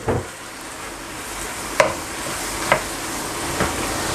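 Prawns and Thai baby brinjals cook in a pan for a Thai yellow curry, giving a steady soft sizzle with three sharp stirring clinks spaced about a second apart, close and fairly loud, with no talking.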